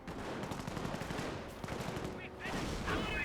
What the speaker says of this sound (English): I think the mortar half track is barraging right there.